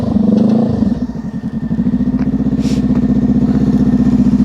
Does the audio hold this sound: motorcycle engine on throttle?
yes